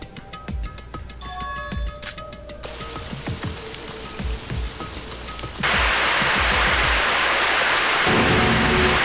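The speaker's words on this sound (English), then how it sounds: "it raining inside or something? The sprinklers, but there isn't a fire." Indoor sprinklers spray water in the video game Super Danganronpa Another 2, a dense hissing rush that swells loud and steady partway through, after a stretch of scattered clicks and taps.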